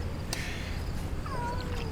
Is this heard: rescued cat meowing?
yes